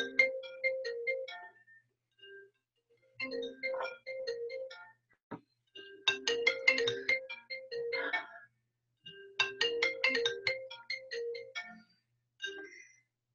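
A phone ringtone plays in repeated melodic bursts with short pauses between them, clear and fairly close, with no talking over it.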